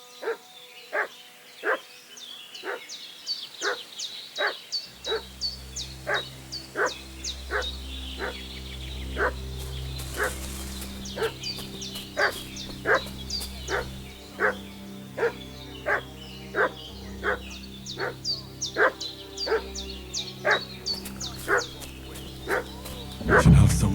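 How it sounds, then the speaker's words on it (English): A dog in the video game Kingdom Come Deliverance II barks over and over at an even pace, each bark sharp and moderately close, over a low ambient backdrop that thickens after the first few seconds. "What's that dog making such a fuss about?"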